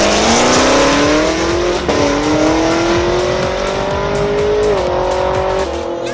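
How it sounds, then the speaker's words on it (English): A twin-turbo drag car engine screams steadily upward in pitch as it accelerates hard, loud and close, with brief dips at each gear change. "we're going to show you guys a video of her running the twin turbo car"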